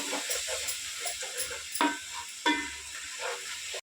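Tomato paste frying in oil in a pan while an Andhra-style plain pulao is being prepared, giving a steady close hiss and sizzle broken by occasional spoon stirs and scrapes, with no talking.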